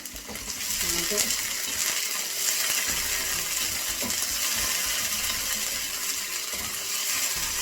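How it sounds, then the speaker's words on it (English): Sweet and sour prawn noodles are stirred in a pan after the sauce goes in. Broad, steady sizzling runs throughout, with scattered scraping and clinking from the utensil against the pan. "Mix it all together. Let it cook for around 3 minutes. Keep stirring."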